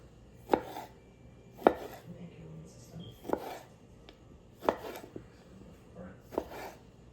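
Knife cutting pre-washed tomatoes in half on a cutting board, five sharp, close thunks at irregular intervals of about a second, with no talking.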